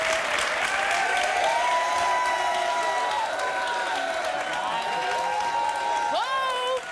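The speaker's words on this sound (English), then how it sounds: "Don't clap for him." A talk show studio audience claps and cheers loudly and continuously while voices talk and shout over the noise.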